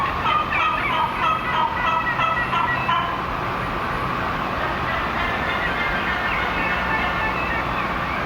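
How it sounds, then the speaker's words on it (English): Wild turkeys gobble repeatedly in the distance, their rattling calls overlapping in bursts before fading into a steady outdoor background hum. "Turkeys were everywhere"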